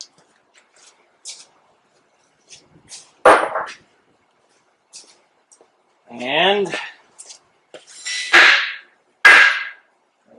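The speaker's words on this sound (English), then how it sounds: "Get a hammer." Sharp, loud hammer strikes knock lugs out of a John Deere 820 tractor wheel hub, landing as isolated metallic hits separated by pauses, alongside a short rattling clatter and a brief spoken word.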